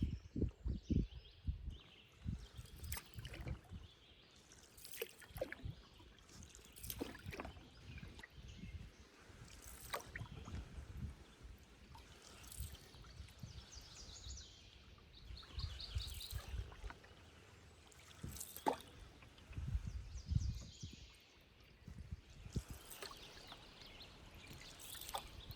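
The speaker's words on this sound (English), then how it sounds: "The only sounds were the flow of the water, a welcome breeze here and there," Outdoors on the St. Louis River, water flows and trickles steadily around a paddled canoe. A breeze passes now and then, and varied bird songs sound repeatedly at moderate distance.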